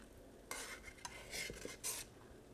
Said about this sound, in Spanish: Comenzamos a retirar las impurezas.